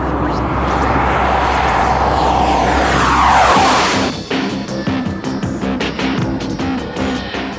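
A Hawker Hunter jet with an Avon Mark 122 turbojet of nearly 8,000 pounds thrust takes off from runway 26; a loud roar with a rising whine swells to a peak, then settles into a lower rumble as it passes.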